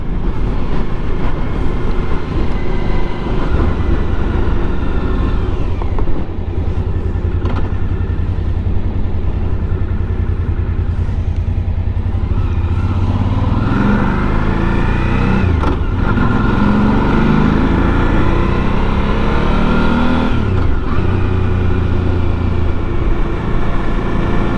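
A Suzuki V-Strom DL1000 motorcycle rides through town, its engine droning loud and continuous with wind rush, rising and falling in pitch as it accelerates and shifts, with no talking.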